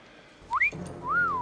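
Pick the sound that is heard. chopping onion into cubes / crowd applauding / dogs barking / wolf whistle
wolf whistle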